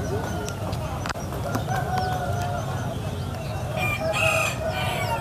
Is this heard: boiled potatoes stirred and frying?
no